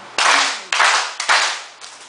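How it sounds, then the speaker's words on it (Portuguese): A group claps in unison in three loud, sharp bursts with a fainter partial clap at the end, at a community governance workshop event. "Bora, agora 3 palmas e meia."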